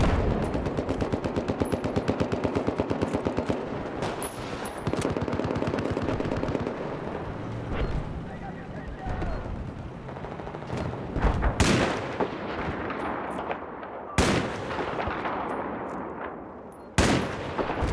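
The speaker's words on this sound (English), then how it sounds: "I'm just shooting at the heli there, hoping I'll get like a hit on him." In the video game Battlefield 4, a player fires at an enemy helicopter. Long bursts of rapid automatic gunfire rattle loudly, broken up by a few sharp, heavy cracks.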